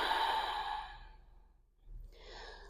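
A long audible exhale released during a yoga breathing exercise, a breathy sigh that fades out, followed by a softer intake of breath.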